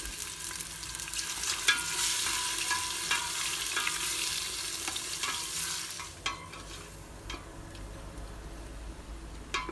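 Half a kilo of beef cubes sizzles loudly in a hot pressure cooker, a bright crackling hiss that fades partway through, followed by a few scattered clicks and taps.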